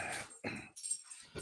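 A standard poodle and golden retriever cross whimpers and yips indoors, giving a few short, faint whines with pauses between them, heard alone without talking.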